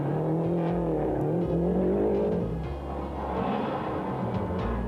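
A works Lancia Delta Integrale rally car drives a British forest special stage, its engine loud and near, revving through rising and falling gear pulls with a brief lift midway before pulling hard again.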